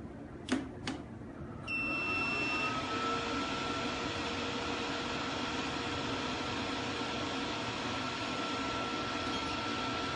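A needle-free injector machine starts up after a couple of sharp clicks, then settles into a steady, even electrical hum with a faint high whine that runs unchanged to the end.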